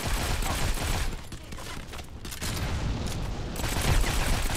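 Rapid gunfire from the mobile shooter Modern Combat 5, dense bursts of shots and booms that thin briefly in the middle, then swell back loud and continuous with no talking over them.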